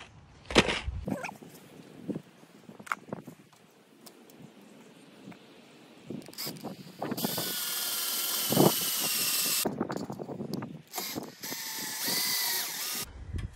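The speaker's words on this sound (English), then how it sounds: "So now we're just going to drill the screws in." Cordless drill driving 8G by 25mm metal screws into a Jayco camper bed end, with intermittent clicks and handling noises before a long, loud, whining drill run and shorter bursts afterward, close by.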